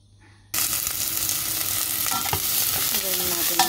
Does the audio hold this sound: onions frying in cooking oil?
yes